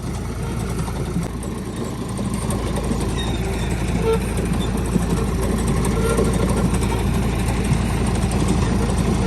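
A Swaraj 855 4x4 tractor fitted with a potato planter idles steadily nearby, a constant low rumble with a faint voice now and then.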